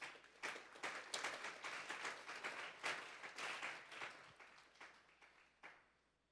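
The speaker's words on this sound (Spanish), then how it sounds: "Denle un fuerte aplauso pues al Señor." A church congregation at a Sunday service breaks into applause, brisk uneven clapping that swells and then tapers off into scattered claps near the end.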